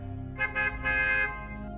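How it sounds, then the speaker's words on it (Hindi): A bus horn honks in short bursts: two quick toots, then a longer sustained blast, close by over a low rumbling background. "तभी मेरे कानों में बस की हॉर्न की आवाज़ सुनाई देने लगी।"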